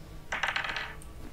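Dice rolled during a tabletop-style D20 run of Diablo III, a short burst of hard clattering rattles lasting under a second, close and fairly loud, ending with one small click.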